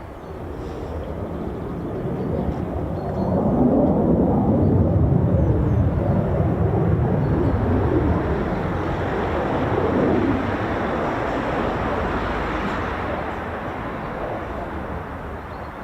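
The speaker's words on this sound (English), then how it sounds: "Such agile aircraft, the F-35A." An F-35A fighter jet from the 48th Fighter Wing at RAF Lakenheath flies past with a broad, steady roar that swells in the middle and fades slightly toward the end, heard alone without talk.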